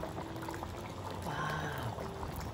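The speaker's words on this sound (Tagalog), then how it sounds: "Ilalagay natin ng kakanggata, guys." Thick coconut cream is poured into a pot of spicy beef cowhide, a close, steady glugging liquid pour that lasts a couple of seconds over a faint simmer, with a brief murmur of voice.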